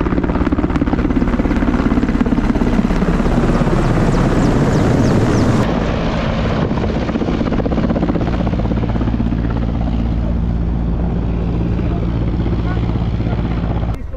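A helicopter carrying VIPs flies overhead near Muktinath in Nepal, a loud, steady rotor thudding and engine whine that dominates throughout, easing slightly partway through as it moves off, with a voice speaking over it.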